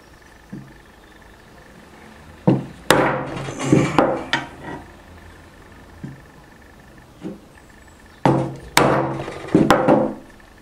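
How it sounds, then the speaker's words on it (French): A tool tapping an oil seal into its housing during crankshaft and oil pump replacement on a Chinese GY6-type scooter engine; two clusters of sharp metallic knocks and taps, close and fairly loud, separated by quiet pauses. "Nous allons maintenant utiliser un second outil qui va nous permettre de rentrer notre joint spi un petit peu plus loin dans son logement."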